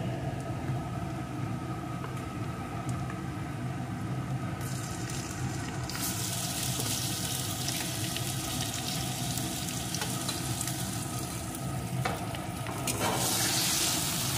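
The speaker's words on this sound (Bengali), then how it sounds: "এখন অল্প আছে সব কিছুর সাথে এটাকেও একটু নাড়িয়ে নেব" A cauliflower bharta mixed with onion and garlic sizzles steadily in a pan while being stirred, a continuous frying hiss with occasional scraping, no voices.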